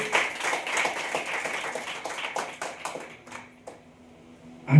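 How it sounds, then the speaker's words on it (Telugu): A church congregation claps loudly and rhythmically, a close burst of many hands that thins out and fades toward the end. "గట్టిగా చప్పట్లు కొట్టి దేవుడు కనపరిచాడు"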